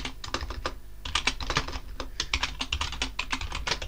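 Rapid, close keystrokes on a computer keyboard, typing a command in quick uneven bursts with a brief pause near the one-second mark, with no voice over them.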